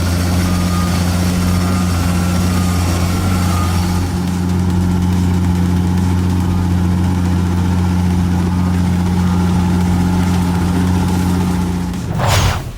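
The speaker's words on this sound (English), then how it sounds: "this Caterpillar 322 crawler excavator is swimming or driving" A Caterpillar 322 crawler excavator's engine drones steadily and loud with a deep, constant low hum in muddy ground, ending in a sudden louder burst as the throttle rises near the end.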